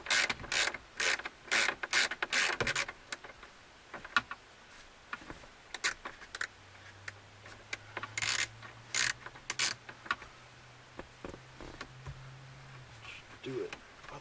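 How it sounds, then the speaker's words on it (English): A bolt being ratcheted out of the climate control panel of a 1987 Oldsmobile Toronado, heard as bursts of quick, close ratchet clicks with pauses between them and a low hum in the background. "here's the last bolt coming out right now."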